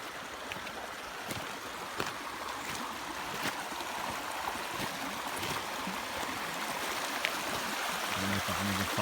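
River stream flowing beside a river island camp on a cold night, a steady broad rush of water with occasional small splashes, moderately close.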